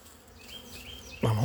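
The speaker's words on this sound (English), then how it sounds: "there's a lot of bees in it" A hived swarm of honey bees hums in a soft, steady buzz that swells abruptly louder near the end as the box is set down close by.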